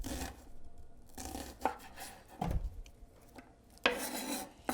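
Kitchen knife slicing through an onion on a cutting board, a few separate crisp rasping cuts with short pauses between them, close and fairly quiet.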